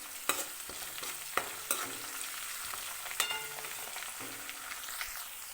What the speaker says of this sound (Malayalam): നമുക്കിതിലേക്ക് ഒരു 2 കറിവേപ്പില ഇട്ട് കൊടുക്കാം.